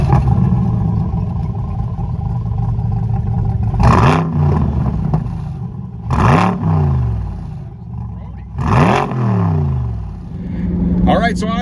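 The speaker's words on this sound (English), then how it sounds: "take a quick listen to his exhaust on this" A Chevrolet Corvette C8 on 22-inch rear and 20-inch front wheels idles with a deep exhaust burble, then is revved hard three times in quick sharp bursts, each roar climbing and falling away before settling back to idle, loud and close.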